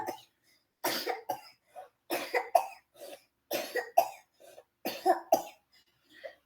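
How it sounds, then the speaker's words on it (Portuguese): A series of harsh coughs in bursts, some doubled, with brief pauses between, fairly close and moderately loud. "Tosse."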